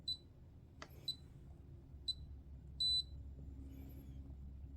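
A Xegis gun safe palm reader gives short electronic beeps, quiet and close in a hushed room, with one longer steady tone standing out among a few brief chirps and a soft click.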